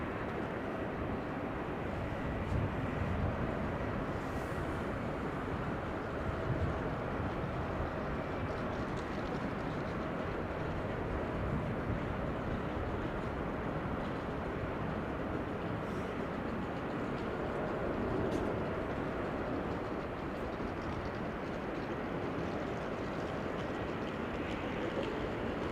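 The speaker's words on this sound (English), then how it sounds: "This is KLM flight 1284, Embraer 175, arriving from Aalborg." A KLM Embraer 175 airliner arriving at Amsterdam Schiphol after a flight from Aalborg fills the scene with a steady, loud broadband roar that swells slightly near the end, continuous engine and rushing noise with no voices.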